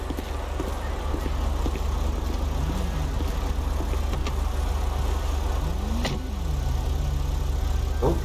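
A car engine idles in GTA V with the LSPDFR mod, a steady low rumble running unbroken throughout, with faint scattered clicks and tones on top.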